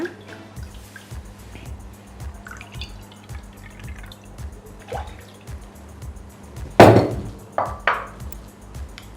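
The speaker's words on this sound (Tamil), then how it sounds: "இதெல்லாம் தண்ணி சேர்த்துக்கோங்க." Water splashes and trickles into a pan in a short, close burst, with a few drips after it over steady low background hum.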